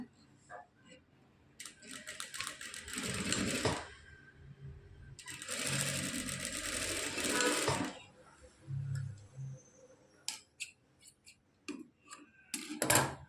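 A sewing machine stitches fabric pieces for a two-fabric laktan design in two bursts of a couple of seconds each, separated by quieter handling clicks and taps, close by and moderately loud.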